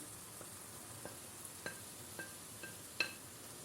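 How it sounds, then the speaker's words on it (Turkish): Sausages sizzle in a pan of tomato sauce as they are stirred in, a faint steady frying hiss broken by soft scraping taps every half second or so, with no voices. "Ve şimdi içerisine sosislerimizi de ilave ediyoruz"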